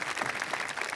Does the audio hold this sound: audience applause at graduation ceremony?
yes